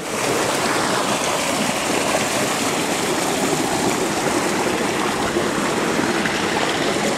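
Irrigation water rushes steadily through an open gate into a silage corn field in California's Central Valley, a loud, unbroken wash of flowing water with no voices.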